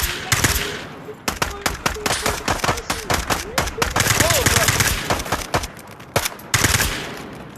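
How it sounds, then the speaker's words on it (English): Gunshots at a shooting range ring out in quick, loud bursts of automatic fire, with irregular single cracks between volleys and a brief pause near the end. "just shoot"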